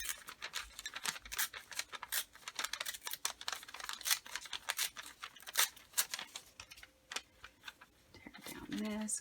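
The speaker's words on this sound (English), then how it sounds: "I think I'm going to have to tear a new piece here" Paper torn by hand while making craft envelope pockets, a close, crackly series of dry rips and rustles with a short pause near the end.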